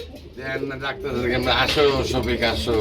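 Racing pigeons at a pigeon seller's loft, several close, loud throaty coos repeating over each other, with people talking in the background.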